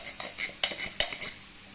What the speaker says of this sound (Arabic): وهقلبهم كلهم مع بعضهم